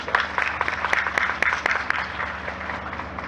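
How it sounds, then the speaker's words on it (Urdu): Applause from an indoor audience at a Mother's Day event in Punjab, offered as a tribute, with a dense, steady patter of many hands and a few louder claps standing out. It sounds moderately close and continues evenly with no voices over it. "ہم اس کو تالیاں بجا کر خراج تحسین پیش کریں۔"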